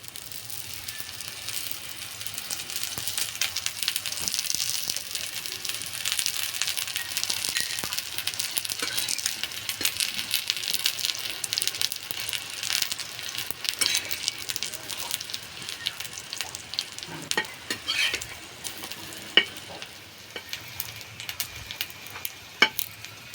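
Stuffed aloo paratha frying in oil on a pan, a steady close sizzle dotted with sharp crackles and pops that continues for a long stretch.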